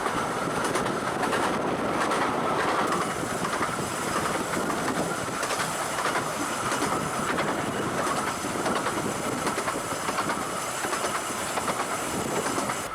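A narrow gauge train on the Bure Valley Railway in Norfolk runs near Aylsham, passing a tunnel, with a steady rumble, rhythmic wheel clatter and some rail squeal, continuous and fairly close.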